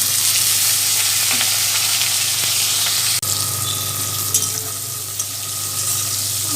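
Potatoes, onion and green chili frying in a pan of oil, a loud dense continuous sizzle with light stirring scrapes, close and steady, no talk.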